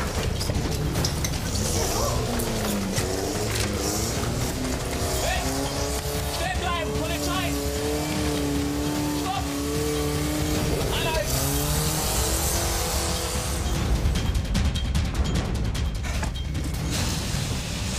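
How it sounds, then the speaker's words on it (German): A car engine revs hard as the car pulls away, with tire squeal and skidding, loud and continuous over about eighteen seconds, during a police pursuit of a fleeing suspect. Voices speak over the engine noise. "Oh, das Auto!"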